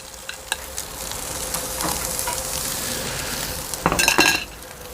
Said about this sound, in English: we've got ridiculously large Juicy Lucy's that are going on the grill on the hot side